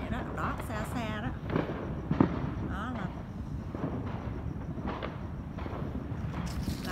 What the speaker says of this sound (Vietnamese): cảnh của nước Mỹ buổi tối July 4 lễ độc lập của nước Mỹ đốt pháo bông vậy đó